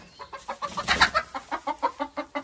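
A rooster clucks in a quick, steady run of short calls, fairly close, with a louder burst partway through and no talking.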